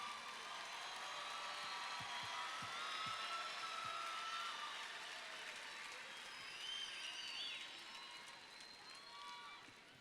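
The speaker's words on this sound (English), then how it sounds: "So make sure you give yourselves a round of applause." Steady applause from a large crowd at the Duncanville High School Class of 2016 graduation ceremony, heard at a distance with a few whistles and shouts over it, fading slowly toward the end.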